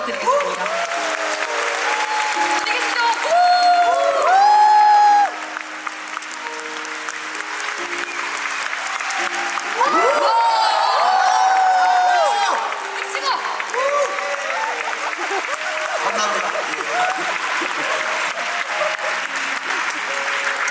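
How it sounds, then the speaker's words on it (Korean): Enthusiastic applause from a concert audience at the Pungryu Daejang tour show at Dream Theatre in Busan, dense clapping swelling and fading in waves while a presenter speaks over it. "김여주 한모희 단장님이 이끄는 우리 풍류대장 안무팀에게도 뜨거운 박수"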